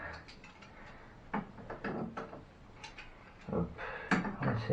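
A tool tightens the fitting on a faucet mixer tap in a series of close, irregular ratcheting clicks and metallic scrapes, coming in short bursts with pauses between turns, with no talking.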